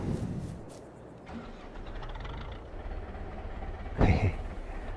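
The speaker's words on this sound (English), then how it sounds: "Sounds great, this tractor" A rumbling video game tractor engine in Farming Simulator 22 idles and revs steadily, with a louder mechanical burst near the end.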